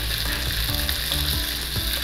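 Veal browning in hot oil in a pot gives a steady, loud, dense sizzle throughout, with a few faint stirring knocks and no voices.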